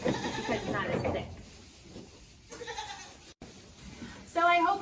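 Goats at Muscoot Farm bleat in a few wavering calls, loud and close, the last one near the end, with a person talking quietly in between.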